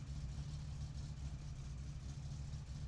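In the video game My Summer Car, a tractor engine idles steadily, a quiet low rumbling drone that stays constant throughout with no talk.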